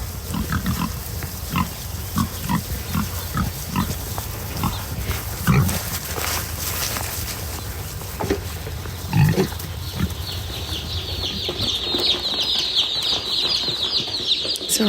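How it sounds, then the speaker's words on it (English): Pigs being fed on a farm in the morning give repeated grunts and snorts with a few louder squeals and clattering bursts, fairly close, with steady farmyard background and no talking. "That's the sound of us feeding the pigs this morning."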